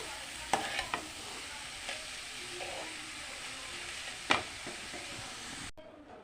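Salted papaya-leaf curry with fish heads is mixed in a pan, giving a quiet steady sizzle with a few faint scrapes and taps of the spoon, with no one talking.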